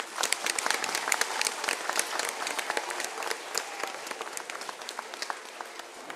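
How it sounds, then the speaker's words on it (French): Applause from an audience at a prize-giving ceremony for schoolchildren, a dense steady patter of many hands clapping close by for several seconds, with no talking over it. "On peut les applaudir?"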